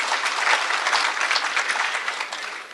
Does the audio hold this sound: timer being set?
no